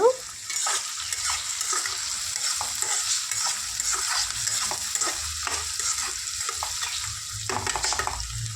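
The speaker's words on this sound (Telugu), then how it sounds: "ఆనియన్స్ మగ్గుతున్నాయి కదా" Onions frying in a pan for an onion egg fry, stirred now and then, giving a steady close sizzle with scattered scraping strokes of a spoon throughout.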